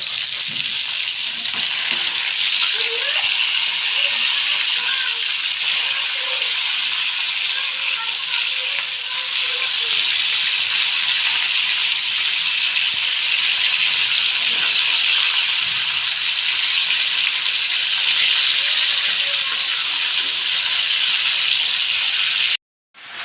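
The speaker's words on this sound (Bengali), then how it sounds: "একে একে মাছগুলো আমি ভেজে নেব" Fish pieces rubbed with salt and turmeric frying in hot oil in a pan, a loud continuous crackling sizzle that holds steady throughout before cutting off abruptly at the end.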